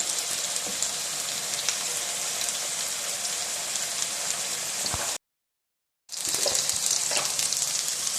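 Potatoes fry with cumin in a pan over full flame, a dense, close crackling sizzle that breaks off for about a second and then resumes just as strongly.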